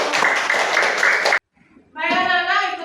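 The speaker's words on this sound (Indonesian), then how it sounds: "tepuk tangan dulu" Children in a classroom clap together in a dense burst of rhythmic hand claps lasting over a second, then fall quiet before lively children's voices break out.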